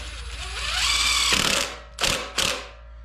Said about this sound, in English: Probably a little quicker if I just wrap around with a little impact here